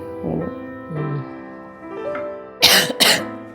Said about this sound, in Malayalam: ഈ ചുമ കുറച്ച് ദിവസം ആയില്ല മരുന്ന് കഴിക്കാൻ പറഞ്ഞിട്ട് കഴിച്ചില്ല